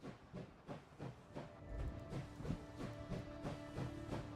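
Rolling train in a video game, with steady rhythmic clickety-clack beats and a hiss of steam over a low rumble, moderately loud and continuous with no talk.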